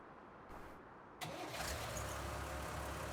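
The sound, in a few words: tractor engine starting in Farming Simulator 19 video game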